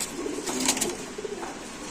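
Racing pigeons coo softly and repeatedly nearby, their low, throaty calls rising over a quiet background hum with no talk.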